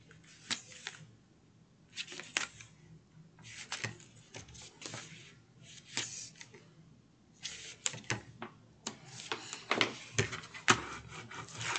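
Strips of tape being pulled and pressed onto a composition notebook cover, giving a series of short crackling tears and rubbing bursts in irregular clusters, close by and fairly quiet, with no talking.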